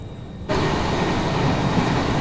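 Alleppey Chennai Express train approaching on Indian railway tracks, a broad rumbling roar that swells in abruptly after a quiet half second and holds steady and loud throughout.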